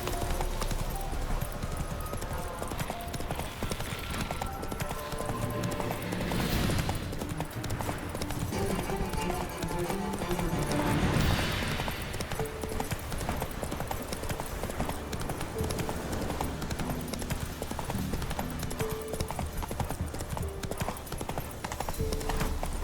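Roach, the horse in The Witcher 3, gallops with steady, rhythmic hoofbeats close by, layered over a continuous game soundtrack, with a brief whinny partway through.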